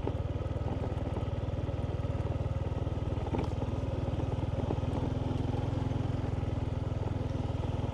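A motorbike ridden along a dry-season track out to the rice fields, its engine droning steadily and close throughout with a constant rapid pulse and no pause.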